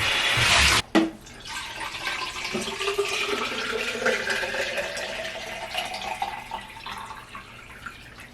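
Tap water running steadily while a Nespresso Vertuo Plus water tank is rinsed, after a brief loud burst at the start, a continuous splashing rush with filling tone rising gently over several seconds.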